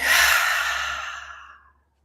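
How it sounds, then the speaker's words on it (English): A single long, breathy exhale during a breathing meditation, loud and close at first, then fading smoothly to silence after under two seconds. "Exhale fully. Inhale through the nose. Exhale fully."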